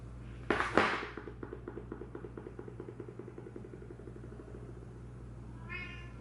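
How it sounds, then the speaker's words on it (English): A sharp clatter, then quiet rhythmic ticking for several seconds, and a single short cat meow near the end. "Meow. Meow. Meow. Meow."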